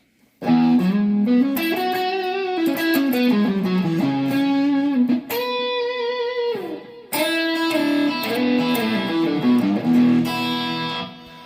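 Heavily distorted electric guitar through a Nova Go Sonic guitar's distortion setting plays sustained, gritty chords and bending notes, loud and continuous with a brief break midway.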